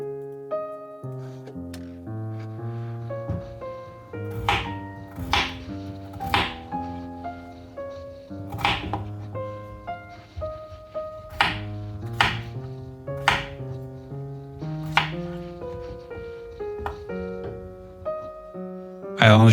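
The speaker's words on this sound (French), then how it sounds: "il me faut à peu près 500 g de pommes de terre que je vais éplucher" Potatoes for a cheese potato galette are chopped on a board, a run of sharp knife thunks spaced a second or two apart over a steady background of music.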